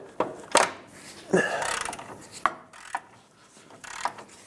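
A ratchet working on a tight rack and pinion bolt on a 1997-2003 Lexus ES300, with close scraping and clicking bursts and a longer grinding pull, irregular and near.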